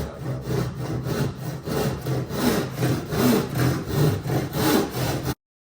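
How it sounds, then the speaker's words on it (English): Hand saw cutting a compound angle through wood in a carpentry exercise, rhythmic back-and-forth rasping strokes, close and clear, about a dozen strokes before stopping abruptly. "then just saw this right way through"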